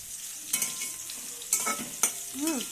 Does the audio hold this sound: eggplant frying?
yes